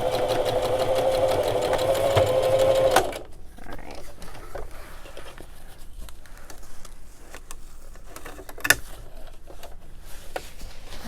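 A sewing machine runs steadily for about three seconds, top stitching a bridle bag with a fast, even whir, then stops, leaving quiet handling noises and a single sharp click.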